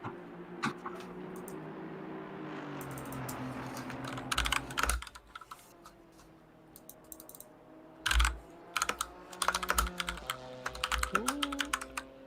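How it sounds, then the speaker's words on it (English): A computer keyboard clatters with bursts of quick close key presses and clicks over a low background hum, irregular and somewhat busy. "did you like that typing ASMR?"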